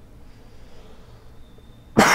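After near silence, a single sharp cough bursts out at the very end, close and loud.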